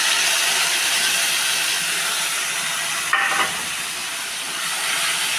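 Mustard and poppy seed paste hits a hot pan and sizzles, a dense steady hiss close by, briefly flaring with a stirring scrape around the middle before settling back to an even fry.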